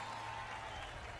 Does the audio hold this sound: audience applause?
yes